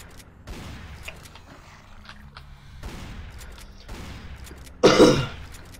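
Gunfire in a video game called Unhinged, with scattered muffled shots and thuds in the background, then one loud sharp burst near the end.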